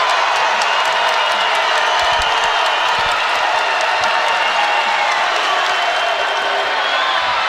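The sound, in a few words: basketball arena crowd cheering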